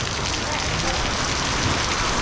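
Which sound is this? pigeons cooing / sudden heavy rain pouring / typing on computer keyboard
sudden heavy rain pouring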